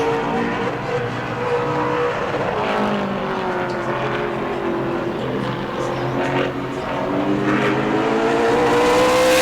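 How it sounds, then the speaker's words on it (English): A super late model race car runs a qualifying lap at New Smyrna, its engine note rising and falling with the laps as it passes at a distance, loud and continuous with no talk over it. "See if Jonas can pick it up a little bit here on his second lap, coming around the back stretch"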